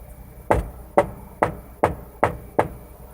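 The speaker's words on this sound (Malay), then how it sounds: "Pintu masih diketuk." Six evenly spaced, solid knocks on a door at night, each a sharp thud with a short decay, loud and close with quiet between them.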